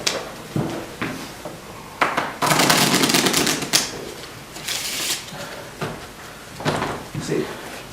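A deck of red Bicycle playing cards being shuffled at a magicians' show, with bursts of riffling card noise and light shuffling between them, while a voice talks over parts of it.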